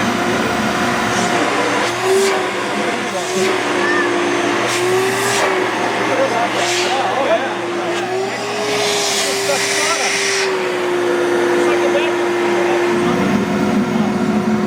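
A woodshop dust vacuum for sawdust runs with a steady loud whine and drone, while people talk close by over it.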